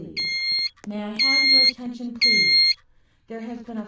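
Building fire alarm during a test, sounding as three loud, shrill electronic tone bursts, each roughly half a second to a second long, separated by short gaps, with a low buzzing undertone.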